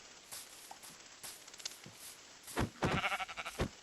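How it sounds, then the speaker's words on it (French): Sheep bleating in the video game Minecraft, a few short bleats near the end, fairly clear over faint background noise with no talk. "Il y a un mouton!"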